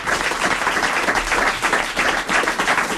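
A radio studio audience applauds with loud, continuous, pulsing clapping that fills the whole stretch with no voices on top.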